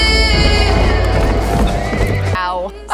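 A horse neigh sound effect rings out loud and close, a long shrill whinny with clip-clop hooves, cutting off into a short quieter tail.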